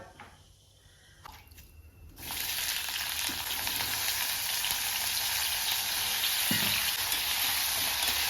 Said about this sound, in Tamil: இந்த பக்கம் வாழைக்காய் வறுத்துக்கிட்டு இருக்கேன்